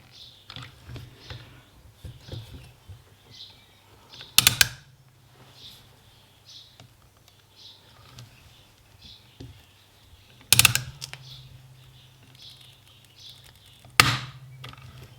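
Bolts being tightened on the dynamo of a Ferguson TED20 tractor during reassembly, heard as soft repeated clicking and ratcheting taps with three sharp louder metallic knocks spread through the clip, close by.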